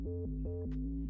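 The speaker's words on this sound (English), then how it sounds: "The first bass is a little bit more low end" A deep synth bass line with gliding pitch slides between notes, heavy in the low end, plays a short riff alone at close, full volume for about a second.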